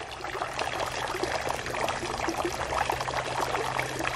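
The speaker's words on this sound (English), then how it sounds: "Do you feel the water splattering on you yet?" Steady rush of garden fountain water falling and splattering close by, a dense continuous splashing with no pauses and no voices.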